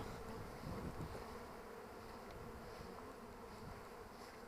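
Bees buzz around hives during acacia bloom, forming a faint, steady, dense hum with no distinct individual passes.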